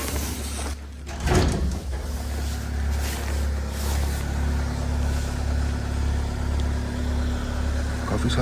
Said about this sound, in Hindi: मैं जा रहा हूँ गाड़ी को स्टार्ट करने